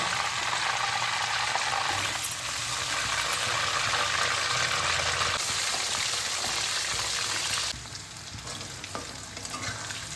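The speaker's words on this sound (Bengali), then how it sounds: "মাছ ভাজা তুলে আমি সিদ্ধ আলুগুলোকে ভেজে নেব" Boiled potatoes fry in oil with a loud, continuous sizzle that holds steady before dropping somewhat quieter near the end, heard up close without any talking.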